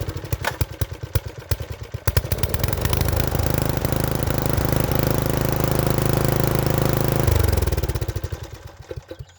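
A garden tiller's small engine cranks with rapid chugging pulses, catches and runs loudly in a steady clattering idle for several seconds, then cuts back to slower sputtering beats.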